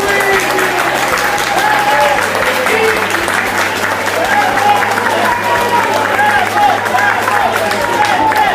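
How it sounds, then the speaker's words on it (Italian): Loud, sustained applause from a crowd at a civic merit award ceremony in Certosa di Pavia honouring Luigi Goi: dense continuous clapping with murmuring voices and a steady low hum underneath. "un grande applauso vorrei per il signor Luigi Goi"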